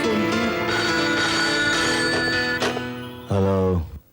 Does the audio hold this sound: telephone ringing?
yes